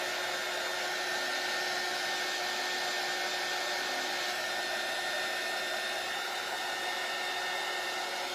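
A hair dryer blows steadily on a sunflower watering-can shelf-sitter craft piece, a loud, unbroken whoosh with a constant whine that runs the whole time and no voices over it.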